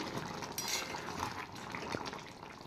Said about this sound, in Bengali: মাছ ফুটে গেছে,